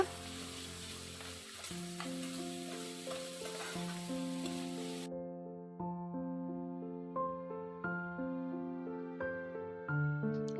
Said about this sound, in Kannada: ಸಣ್ಣಗೆ ಹೆಚ್ಚಿಟ್ಕೊಂಡಿರೋ ಈರುಳ್ಳಿನ ಚೆನ್ನಾಗಿ ಫ್ರೈ ಮಾಡ್ಕೊಳ್ಳೋಣ